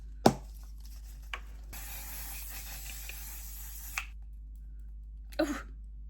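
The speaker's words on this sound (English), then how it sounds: "And then the last thing I like to do is use setting spray." A long hissing spray of makeup setting spray lasts about two seconds, framed by a few short breathy sounds and clicks in an otherwise quiet room.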